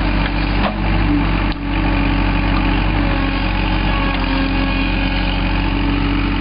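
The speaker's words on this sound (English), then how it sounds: "next process right now is getting ready to start digging with the backhoe to bury all the pipes" A backhoe engine idling on a geothermal loop installation site before trench digging, a loud, steady, close rumble with two brief dips early on.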